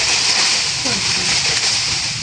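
Continuous wet splashing and sloshing of water close by, like hand-washing laundry, steady throughout the short clip.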